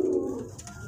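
A male pigeon gives a single low, close courtship coo.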